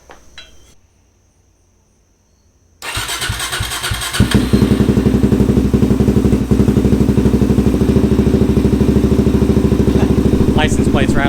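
Suzuki DRZ400SM single-cylinder engine with an MRD exhaust fires up after a quiet moment and settles into a loud, steady, thumping idle close by, with faint rattles.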